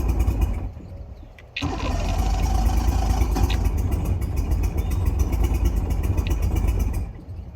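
A pontoon party barge's outboard engine cranks briefly, then catches and roars into a steady, loud, close running drone that holds for several seconds before easing off.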